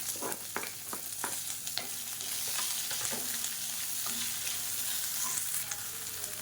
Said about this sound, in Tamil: இப்போ மீடியம் சைஸாக ஒரு பெரிய வெங்காயம் நீளமாக கட் பண்ணிவிட்டு சேர்த்துக்கலாம்